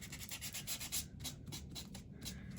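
Sandpaper rubbed back and forth over washi tape on a paper envelope craft project, a steady rhythmic scratchy rasping of quick close strokes, moderately quiet with no talking.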